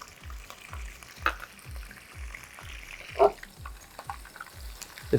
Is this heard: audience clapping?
no